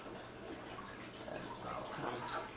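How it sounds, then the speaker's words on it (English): Water dripping and trickling as a filter sponge is wrung out into a 50-gallon aquarium's water, a faint, close, steady patter with no talk. "grab it and just wring it out in your aquarium water"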